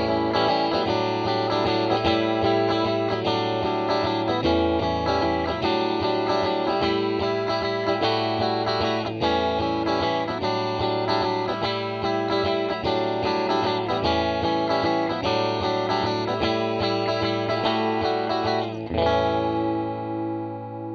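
Electric guitar played through a TC Electronic Hall of Fame reverb pedal on its ambience setting, sustained distorted chords ringing with a wide, thickened wash, ending in a short trailing decay.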